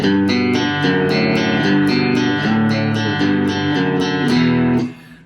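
Electric guitar plays a riff low on the fifth and sixth strings, a steady rhythmic pattern of crisp, driven notes up close, alone with no talking, ending with a brief fade.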